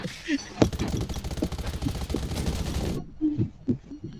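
Rapid automatic gunfire from a firefight in the survival shooter Garena Undawn, a dense burst of shots for about three seconds, then a few scattered single shots with players talking over it.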